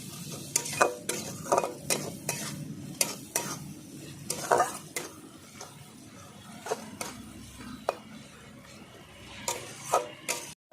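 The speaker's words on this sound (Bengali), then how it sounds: "কাশ্মীরি লঙ্কার গুঁড়ো একসঙ্গে এবার মিলিয়ে দেখো ভালো করে ভেজে নেব মশলাটাকে কষিয়ে" A spice paste of turmeric and Kashmiri chili powder sizzles while frying in a pan for chicken curry, with a spatula scraping and stirring in repeated sharp strokes over a steady low crackle, no voices.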